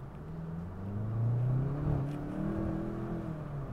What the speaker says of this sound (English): You can hear that turbo spool.